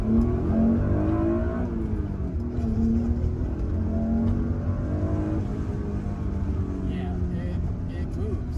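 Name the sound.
Acura NSX NA1 engine accelerating in first gear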